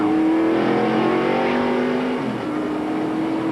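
Jeremy Mayfield's race car at the 1994 ACDelco 500, heard from inside the car: a loud, steady engine drone with a strong harmonic whine that dips in pitch briefly near the end before holding on.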